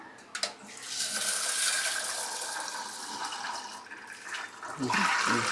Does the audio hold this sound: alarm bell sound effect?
no